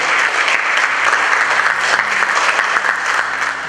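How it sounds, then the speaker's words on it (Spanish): A church congregation applauds during a Spanish-language sermon, with dense, sustained clapping from many hands that fills the room steadily and loudly for several seconds without talk. "dar un aplauso al Señor en esta mañana por esto"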